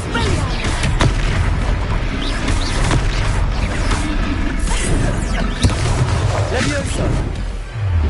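Spell combat in the Hogwarts Legacy video game, with a disarming Expelliarmus cast: dense booming impacts and crashing magical blasts in quick succession, continuous and loud, with shouting voices mixed in.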